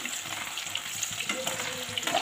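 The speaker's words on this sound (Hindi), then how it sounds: "हम आलू को सबको अच्छी तरह से फ्राई कर लेंगे।" Potatoes for dum aloo fry in a pan with a steady, close sizzle and crackle throughout, with faint scraping from stirring and no talk.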